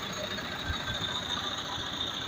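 A 2013 John Deere 6330 tractor's diesel engine runs steadily at idle, a continuous low rumble with a faint mechanical rattle, close and alone.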